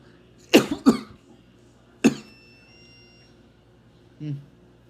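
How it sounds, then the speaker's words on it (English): Several separate coughs close to the microphone: a quick double cough, a single cough, then a softer throaty one after a pause. "If you heard me cough there in the video, I apologize."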